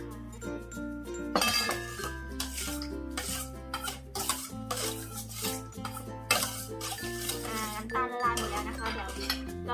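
A spoon clinks repeatedly against a bowl as chili is stirred into a Thai noodle salad dressing for wonton noodles with red pork, the close tapping set against steady background music.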